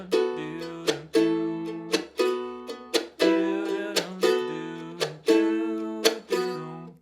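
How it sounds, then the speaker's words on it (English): A strummed rhythm part for a song drives steadily, with accented backbeat chops on two and four and lighter upbeat strums between them, a bright, bouncy chordal pattern repeating for several bars without talking. "but if we added that upbeat to it,"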